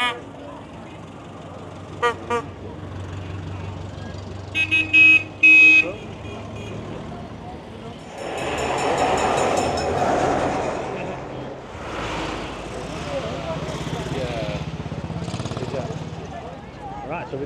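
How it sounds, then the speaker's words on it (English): Vintage 1940s-era vehicles pass along a road during a 1940s weekend event in Lytham, a series of horn toots early on, then engines rumbling by at close range, with people talking throughout. "All these old vehicles, wow."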